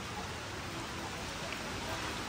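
Steady rain falling outdoors at Manila Zoo, a dense, even hiss of drops on surfaces, continuous and moderately soft, with no clear voices.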